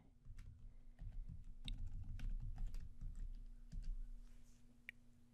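Quiet, irregular clicks of typing on a computer keyboard while logging in, a short run of close keystrokes over a faint low hum.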